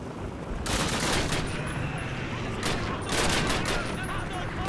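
Sustained gunfire in the video game Call of Duty, dense bursts of shots and automatic fire filling the whole stretch, loud and continuous with brief dips.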